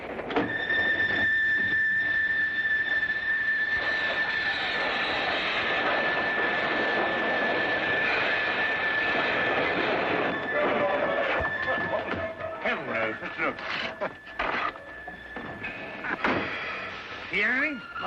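A steady rumbling wash of a moving train in a radio drama sound effect, with a sustained metallic squeal of wheels running through it, then clanks and rattles toward the end under some speech.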